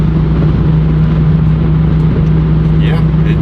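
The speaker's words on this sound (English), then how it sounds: "it just literally sounds like a car" A steady low engine drone and road rumble from inside a moving Toyota A90 Supra with a B58 engine and Ford 8.8 differential, continuous and even throughout.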